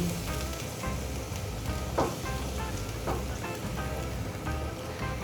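Garlic sizzles steadily in hot oil in a pan, a continuous frying hiss with brief louder crackles around the two- and three-second marks.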